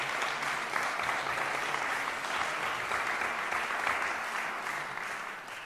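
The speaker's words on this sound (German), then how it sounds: "sind jetzt überrascht, dass plötzlich so geklatscht wird." An audience claps in a concert hall at a baroque-meets-pop evening, dense and sustained applause at a moderate distance, steady throughout and easing slightly at the end.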